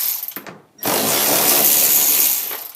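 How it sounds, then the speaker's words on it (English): A power tool with a 3/8 wobble socket runs steady and loud for about two seconds, removing bolts from a cover, after a brief mechanical rattle and a short pause. "Take all my bolts out all the way around."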